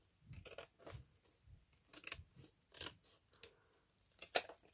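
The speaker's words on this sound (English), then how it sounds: "I'm going to trim this off." Scissors trim paper for a handmade journal, making a series of crisp, close snips in a steady rhythm, with one sharper cut near the end.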